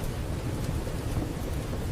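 Steady rain pours with a low, rolling rumble of thunder underneath, a dense, even wash of sound without any break.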